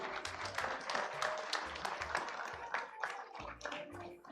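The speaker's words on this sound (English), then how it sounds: "A clap for Samuel." A conference audience applauds an award winner, best male oralist at a climate justice event, with steady clapping of moderate loudness that tapers off near the end.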